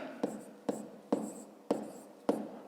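Numbers are written by hand, five quick distinct pen or chalk strokes landing at roughly even intervals, close and crisp, with faint hiss between.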